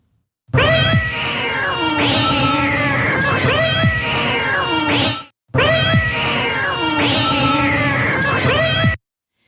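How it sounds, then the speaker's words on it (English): Cats yowl and caterwaul loudly in a fight sound effect, two long sustained bursts of wavering, rising and falling cries with harsh hissing edges, alone with no talk. "I think it might be time for a cat fight"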